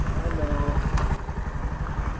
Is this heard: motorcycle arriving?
yes